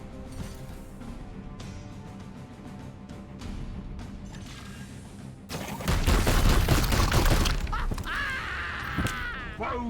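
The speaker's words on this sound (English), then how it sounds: "I'm afraid if Snide shoots, is there friendly fire" Gunfire in the Warhammer 40K Daemonhunters video game, a dense burst of shots and booms that swells loud over the second half, mixed with game sounds and a voice.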